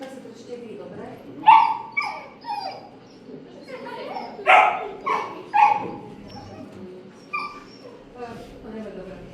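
A dog barks and whimpers in a series of sharp yelps spread across the clip during a training session on reacting to a strange dog, with voices talking in the background.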